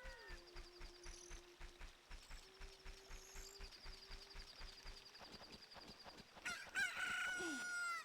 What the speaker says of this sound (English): And there's a chicken.